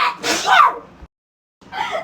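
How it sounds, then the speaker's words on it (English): A nine-year-old child sneezes sharply up close, then after a brief silence lets out another short, breathy burst. "that's my 9-year-old sneezing"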